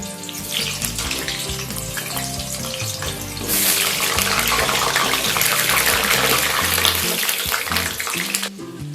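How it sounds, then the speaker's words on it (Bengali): Steady hissing sizzle of large potato pieces frying in hot mustard oil starts partway through and continues loudly, over soft background music. "তেল গরম হয়ে গেলে এর মধ্যে বড় বড় করে কেটে রাখা কিছু আলু ভেজে নেব"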